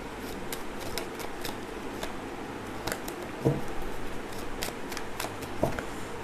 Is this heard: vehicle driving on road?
no